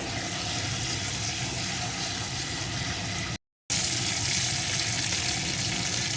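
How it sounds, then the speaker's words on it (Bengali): Whole cumin seeds fry in hot oil for a fish recipe, a steady dense crackling sizzle that runs close and even, broken by one brief silent gap. "এখন এই তেলের ভিতরে দিয়ে দেব কিছুটা পরিমাণ গোটা জিরে। এখন এটাকে একটু ভেজে নেব।"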